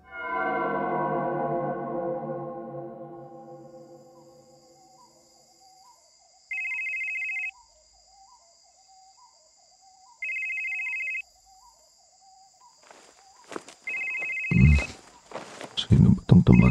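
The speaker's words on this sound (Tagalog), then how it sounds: "Sino ba itong tumatawag? Madaling araw na." A phone rings before dawn with an incoming call: a few short, bright electronic ringtone bursts repeat with pauses over a quiet, low background hum. A fading tone plays at the start, and handling clatter and movement come near the end.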